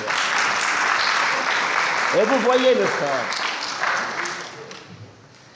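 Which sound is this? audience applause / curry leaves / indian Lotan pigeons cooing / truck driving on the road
audience applause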